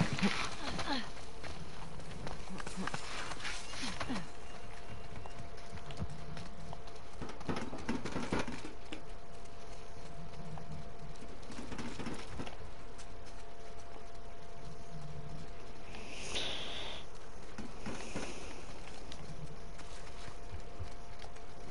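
Horse hooves clip-clopping in The Last of Us Part 2, a steady rhythmic patter of steps running through the whole stretch under ambient game sound and occasional talk.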